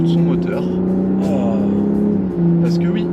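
A Porsche Cayenne Coupé V6 hybrid engine hums steadily and close, rising briefly, with voices talking over it.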